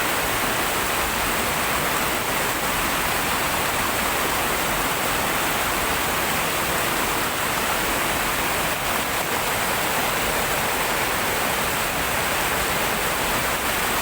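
Loud, constant rushing water roars without pause, a dense hiss of falling water filling the whole stretch.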